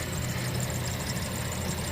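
2007 Toyota Yaris engine idling with a vibration tied to alternator and belt slop, a steady close rumbling hum with constant broadband noise and no talking.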